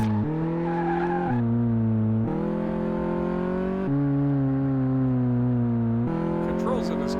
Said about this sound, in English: it does have a nice sound for a little inline four-cylinder